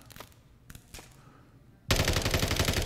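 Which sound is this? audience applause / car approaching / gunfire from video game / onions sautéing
gunfire from video game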